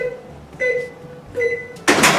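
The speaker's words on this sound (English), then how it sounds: "we're going to pop open the microwave again" A kitchen microwave oven sounds a couple of short tonal beeps, then its door pops open with a sharp, close clunk.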